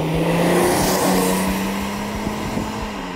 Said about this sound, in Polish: Teraz to jedzie, ale dopiero po mocnym wciśnięciu gazu.